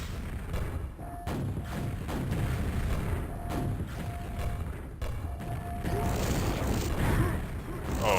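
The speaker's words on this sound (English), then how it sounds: "Oh, those grenades." Grenade explosions in the video game QuakeWorld, a series of sharp thumping blasts and clanks spaced irregularly over several seconds, loud and close amid busy game noise.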